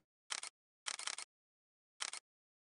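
Shutter clicks from the video game Faceminer, sharp and near, sounding as a quick double snap, then a rapid triple, then another double after a pause, with total silence between.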